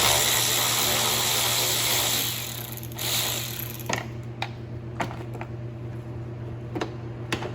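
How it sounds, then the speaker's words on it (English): T20 screws come out of a plastic air duct on a BMW N5x/N2x engine. A steady mechanical whir fades into a series of sharp, separate clicks and ratchet ticks, close by, with no speech. "You're going to remove the two screws right here for the air duct."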